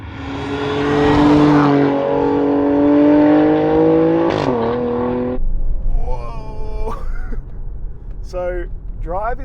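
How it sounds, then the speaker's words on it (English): Alfa Romeo Stelvio Quadrifoglio SUV engine and exhaust rev loudly with rising harmonic drones and a sharp blip, then drop away as someone talks over lower engine rumble. "This is a pure driving experience, a pure performance experience, this exhaust and engine combo"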